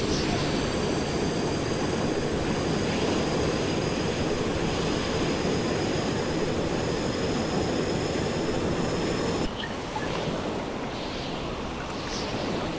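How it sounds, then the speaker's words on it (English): Airplane engine in a video game, a loud constant roar and rush that holds steady, with a thin high whine running above it before the sound briefly drops and thins near the end. "these are gonna be some hard conditions to land my plane in"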